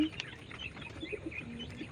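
European White Giant Coturnix quail call out in short, faint chirps from a small flock kept for sale, with low cooing-like notes over steady background hiss and no talking.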